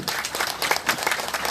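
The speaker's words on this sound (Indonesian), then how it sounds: "Tepuk tangan dong." An audience applauds at a memorial gathering, a dense, steady wash of many hands clapping at moderate volume throughout.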